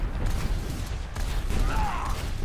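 Rocket spam during an Overwatch esports match, dense rapid explosions and weapon fire in a continuous loud barrage, heard alone and close.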